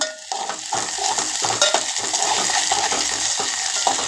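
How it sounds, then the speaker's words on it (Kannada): Ginger garlic paste frying in a pan, with a steady crackling sizzle and repeated scraping and clinking of a metal spoon stirring against the pan, close and continuous, with no talk. "ಸ್ವಲ್ಪ ಶುಂಠಿ ಬೆಳ್ಳುಳ್ಳಿ ಪೇಸ್ಟ್ ಹಾಕೊಳ್ತೀನಿ."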